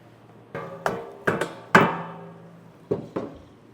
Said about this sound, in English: Stage is to hammer the tap in.